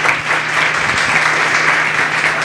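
Dense, steady applause from a church congregation clapping together, sustained and fairly loud throughout.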